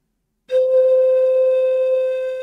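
A single steady tone from a blown sound tube starts abruptly and sustains evenly, a pure low pitch at its fundamental with faint overtones, alone and fairly loud.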